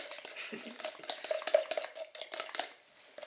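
A fork mixing food in a bowl, with rapid uneven scraping and clinking against the sides, close and fairly quiet, a faint voice murmuring now and then underneath.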